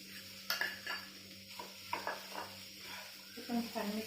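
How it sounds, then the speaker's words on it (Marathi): A spoon stirs jaggery into a pan, with quiet scraping and clinks against the metal and a faint sizzle in the background. "ते पण छान मिक्स करून घ्यायचं।"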